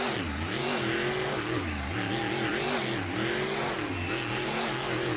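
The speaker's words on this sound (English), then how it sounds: "Looking to put down an awesome run and rev the truck up for the fans." A monster truck engine revs hard and continuously in a stadium freestyle run, its deep, loud roar rising and falling in repeated throttle surges, close by and steady throughout.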